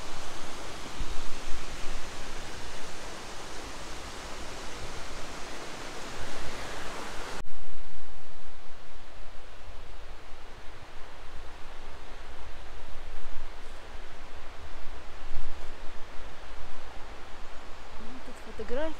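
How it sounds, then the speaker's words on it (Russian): A small waterfall on a mountain trail to the Podkomarnaya falls in the Khamar-Daban range gives a continuous rushing roar of falling water, loud and close, shifting to a softer, steady wash partway through. "Красивый водопадик такой."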